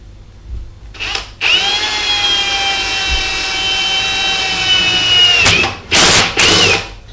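A power drill with a 22 mm bit bores holes in a DIY hydroponic garden tower, one long steady high whine held for several seconds, then a few short bursts as the trigger is pulsed, close and loud.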